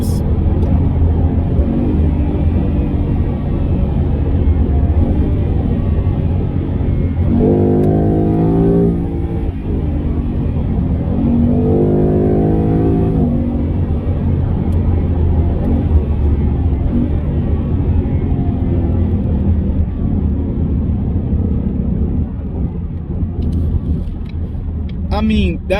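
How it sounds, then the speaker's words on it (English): A Mustang's loud track-mode exhaust drones steadily, with two quick rising rev blips in the middle as the engine downshifts, then settles back into a deep rumble. "And now let's listen to these downshifts."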